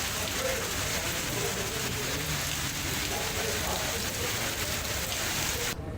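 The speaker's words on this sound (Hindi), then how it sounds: "जगह जगह बारिश हो रही है।" Steady rain falls in Gopalganj amid strong wind during a storm, a dense continuous hiss and patter on surfaces, loud and unbroken until a brief drop at the end.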